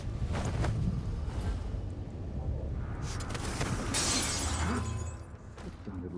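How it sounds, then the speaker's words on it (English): Glass shatters in Dishonored 2, a sharp bright burst of breaking panes rising out of a low, murky game ambience with faint thuds before it. "Sounded like broken glass."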